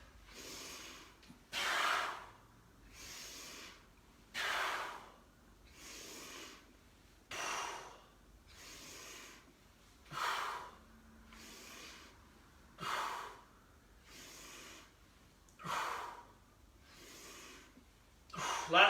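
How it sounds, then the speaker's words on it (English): Heavy rhythmic breathing during an upper-body and cardio workout, about eight loud, evenly spaced breaths, each a sharp forceful exhale like a snort or gasp, with quiet pauses between them and no talking. "breathing in on the way down"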